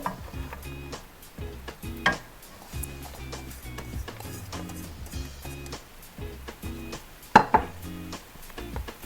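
Onion and cabbage tossed into a hot pan for Korean black bean noodles, sizzling steadily while a utensil scrapes and clatters against the pan in repeated stirring strokes, close and alone.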